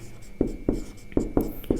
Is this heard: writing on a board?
yes